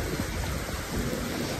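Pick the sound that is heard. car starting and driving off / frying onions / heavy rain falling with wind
heavy rain falling with wind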